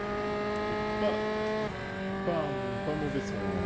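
A steady F4 Tatuus race car engine in Raceroom Racing Experience, with layered harmonic tones holding at a constant pitch, shifting slightly as it revs, synthetic and continuous.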